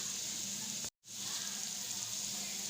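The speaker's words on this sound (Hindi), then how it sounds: "मैं अभी आपको प्याज ब्राउन करके दिखाती हूँ।" Onions browning in hot oil in a pan for a karela gosht curry, giving a steady, close sizzle broken by a brief silent cut.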